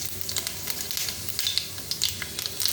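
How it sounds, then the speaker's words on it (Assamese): Panch phoron spices sizzle in hot oil in a kadai, a close, continuous crackling hiss with sharp little pops scattered through it. "ইয়াতে এয়া মই অকণমান পাঁচফোৰণ দিছোঁ"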